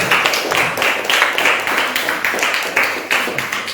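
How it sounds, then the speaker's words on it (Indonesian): Classroom audience clapping together after a student group finishes presenting, a steady burst of many hands lasting several seconds, fairly loud and close. "kita kasih tepuk tangan dulu"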